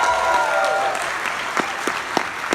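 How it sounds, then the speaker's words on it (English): Audience applause fills a theater screening event, steady broadband clapping at moderate level with a few sharper claps standing out toward the end, no talk over it. "Let's hear it for Stuart Gordon"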